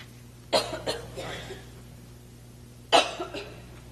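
Two separate coughs ring out from the audience at a school band concert in a quiet room, each a sharp burst trailing off, with a low steady hum underneath.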